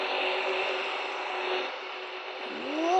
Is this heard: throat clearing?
no